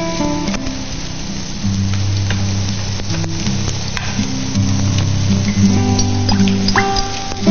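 Shrimp frying in a pan on an induction cooker, a steady close sizzle with crackling pops and occasional stirring, no talk.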